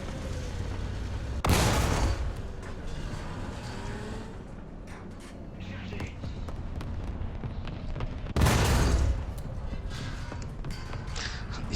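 Two loud, heavy booms from a tank cannon in War Thunder, the first close to two seconds in and the second at about eight and a half, each trailing off over constant battlefield rumble and engine noise.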